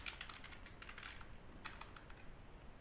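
Quick, light typing on a computer keyboard, a soft burst of key taps in quiet surroundings with no talk.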